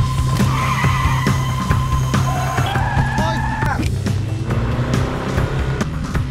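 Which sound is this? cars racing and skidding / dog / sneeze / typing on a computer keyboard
cars racing and skidding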